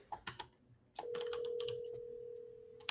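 A phone call is dialed: a few quick key taps, then a steady, fairly quiet dial tone holds alone for about two seconds.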